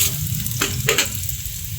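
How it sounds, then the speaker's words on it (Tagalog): Garlic sautéing in hot cooking oil in a wok-style pan, a steady close sizzle with a couple of brief stirring scrapes, no voices. "Ready na tayong mag-gisa."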